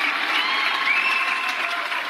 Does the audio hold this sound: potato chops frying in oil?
no